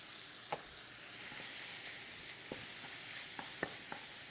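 Chili hits a hot frying pan and a steady sizzle starts and holds, with a few soft clinks from stirring over the hiss.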